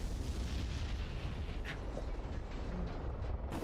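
A Corsair plane crashes in the flight simulator DCS, a dense low rumble and roar sustained for a few seconds with a brief sharper burst partway through, fairly loud and without speech.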